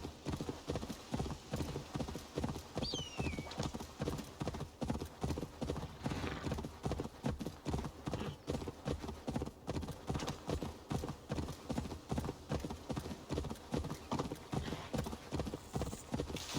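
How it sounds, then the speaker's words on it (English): Horse hooves clip-clop in a steady, rapid galloping rhythm in the video game Assassin's Creed Valhalla. The hoofbeats are loud and continuous over an ambient game soundscape, with a brief bird call near the start. "you see how the horse keeps going on his own?"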